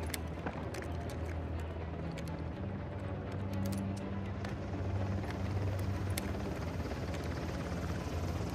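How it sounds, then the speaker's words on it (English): A helicopter in the video game Uncharted: The Lost Legacy thumps steadily with fast rotor chop over a constant engine drone, holding a fairly even level throughout. "Bring that chopper down."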